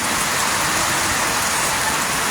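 Heavy rain from Typhoon Enteng pours steadily in a flooded neighborhood, a loud dense continuous hiss with no pauses and no voices.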